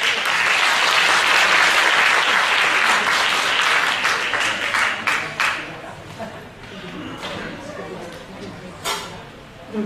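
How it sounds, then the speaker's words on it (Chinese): An audience applauds loudly at an elementary school music talent show before a Christmas suite is played. The clapping fades after about five seconds into scattered claps and murmuring. "我们掌声欢迎"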